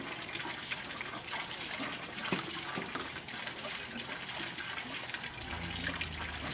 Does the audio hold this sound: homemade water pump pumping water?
yes